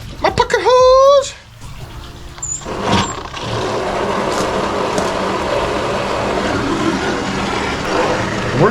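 Hose filling a 30-gallon water bladder tank outdoors at an RV boondocking site, a steady hissing rush of running water that starts a few seconds in and holds, with a voice speaking briefly before it.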